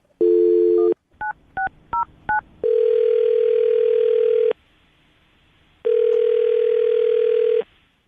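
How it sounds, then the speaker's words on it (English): A telephone being dialed: a short steady tone, then a quick run of five touch-tone key beeps, followed by two long, loud dial tones separated by a pause, with no talking. "I'll dial the phone number right now."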